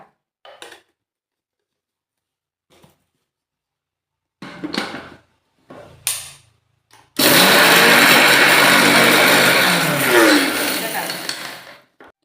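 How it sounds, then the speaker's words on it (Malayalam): A mixer grinder powders dried chillies and curry leaves for a mango pickle. After a few scattered knocks and handling clunks, the motor roars loudly and continuously for about five seconds before winding down. "ഇനി നമുക്ക് നമ്മുടെ പിരിയമുളകും കറിവേപ്പിലും ജസ്റ്റ് ഒന്ന് പൊടിച്ചെടുക്കാം"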